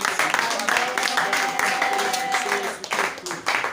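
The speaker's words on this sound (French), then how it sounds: "on acclame pour vous" Church congregation applauding during a Sunday worship service, a steady wash of clapping hands filling the room from start to finish, with a sustained tone and some voices mixed in underneath.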